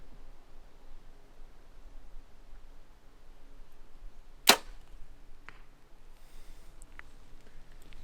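Out on a far 3D archery target course on a breezy mountain, an arrow leaves the bow with one sharp crack and strikes the target, followed by faint rustling and small knocks against a quiet windy background.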